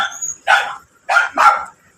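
Three loud, close barks from a dog: one, a pause, then two in quick succession.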